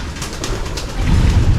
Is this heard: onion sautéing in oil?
no